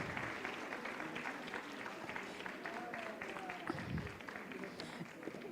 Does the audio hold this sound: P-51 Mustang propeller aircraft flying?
no